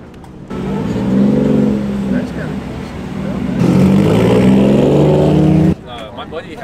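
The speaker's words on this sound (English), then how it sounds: "I got another Supra coming." A Toyota Supra at a car meet rolls up with a loud, steady engine note that swells midway, then cuts off, while people talk over it nearby.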